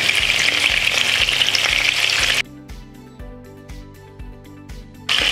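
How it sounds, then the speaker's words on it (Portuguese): Salt cod frying in a large pan as it is turned to brown, a loud steady sizzle with stirring clatter that drops away partway through before the sizzle surges back. "Vamos virando agora o bacalhau. Sem deixar queimar, vamos assim deixá-lo só ficar douradinho."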